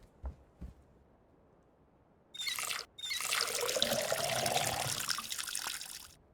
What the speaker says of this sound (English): Fill up the watering can at the sink.